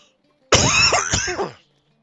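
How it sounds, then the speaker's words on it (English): A single harsh, close cough from a person with a heavy cold, lasting about a second, rough and throaty, alone against silence. "Apologies, I'm going to be coughing a bit."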